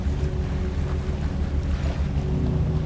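A boat hull riding gentle open-ocean swells, giving a steady, broad wash of water and wind that stays even and close throughout with no voices.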